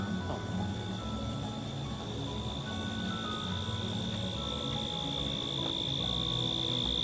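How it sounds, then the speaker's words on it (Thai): A dense, continuous chorus of crickets chirps loudly and steadily, with a high sustained trill over a faint outdoor background near a mine in Kanchanaburi, Thailand. "เสียงจิ้งหรีดดังสุดยืนหนึ่ง"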